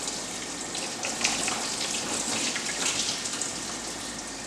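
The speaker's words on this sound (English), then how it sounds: "I already put a bowl underneath the engine to catch all this coolant." Engine coolant gushes out in a steady, splashing pour into a bowl after a stock thermostat is pulled, ahead of a Speedlogix 180˚ thermostat install, loud and continuous with no talk.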